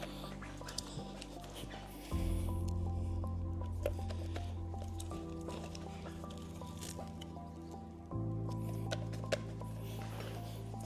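Double-sided seam tape rolled out and pressed down onto Aquascape pond liner, giving soft, sticky squishing and peeling sounds over a steady low hum, with a louder stretch in the middle of the clip.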